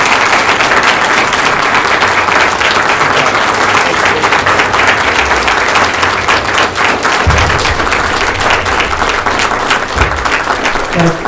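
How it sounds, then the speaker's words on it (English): Loud, sustained applause from the audience at a Democratic candidate forum as the candidates are welcomed, dense steady clapping from a sizable crowd that holds at full strength for the whole stretch. "Ladies and gentlemen, a round of applause for your candidates."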